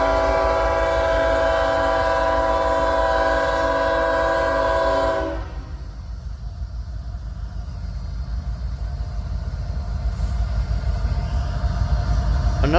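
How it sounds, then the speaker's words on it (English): A unit grain train passes close by with a loud sustained horn blast for several seconds, followed by the steady rumble and rolling clatter of the cars going past. "This is a unit grain train."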